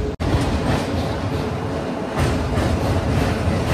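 A Howrah to Digha local train rumbles loudly over the Kolaghat bridge, a dense continuous roar of wheels and carriages heard from on board.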